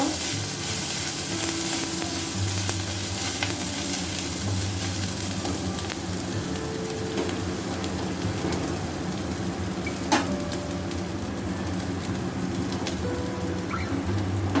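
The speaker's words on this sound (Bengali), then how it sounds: "গ্রেট করা আদা আদাটা ভেজে নেব" Grated ginger frying in a pan for a summer shukto dal, a steady broadband sizzle running throughout with a small pop near the middle, close and alone with no voices.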